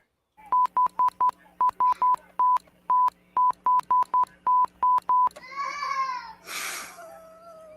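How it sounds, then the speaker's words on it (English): Button beeps tapped out like Morse code: a run of short, even electronic tones in uneven groups, close and loud, followed by a brief burst of squealing, warbling noise at the end. "my Morse code is very bad."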